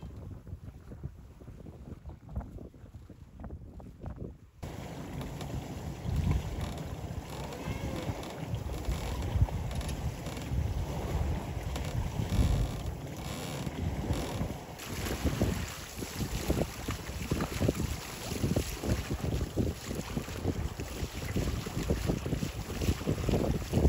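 A DIY sailboat fitted with an electric motor sails in the wind, with steady rushing wind noise buffeting the microphone and water washing along the hull throughout.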